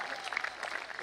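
Audience at a Hindi comedy poetry show applauding, a dense burst of clapping for about a second, with a voice briefly sounding over part of it.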